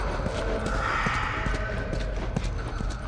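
Footsteps in The Last of Us Part II, a steady run of muffled thudding steps over a dense, constant ambient bed, with no talking.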